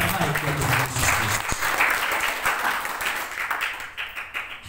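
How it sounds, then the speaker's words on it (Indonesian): Church congregation breaks into loud, dense applause, many hands clapping together in a steady roar that slowly thins toward the end, with some voices mixed in. "Beri tepuk tangan terbaik bagi Tuhan Yesus Kristus."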